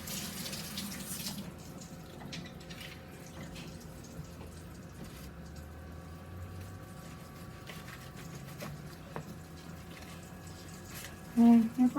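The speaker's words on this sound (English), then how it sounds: "Let me wash my hands." Tap water running into a kitchen sink during handwashing, a steady close hiss and splash lasting throughout, with faint low noises underneath and a few bumps near the end.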